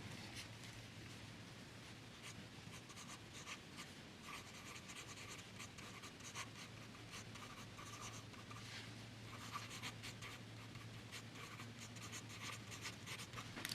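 A Platinum Preppy fountain pen with an extra fine nib writes on Rhodia paper, a faint, continuous close-up scratching of short strokes that lasts throughout, heard alone.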